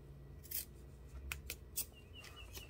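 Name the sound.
scissors cutting bag fabric corner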